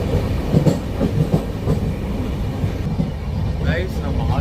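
The Hubballi SF Express passenger train runs on rails with steady, close rumbling and rhythmic clickety-clack wheel beats, a brief squeal near the end, and voices faintly present under the train noise.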